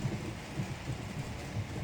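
Steady rainfall in the Heavy Rain video game, a continuous even hiss with a low rumbling undertone, heard alone without talk.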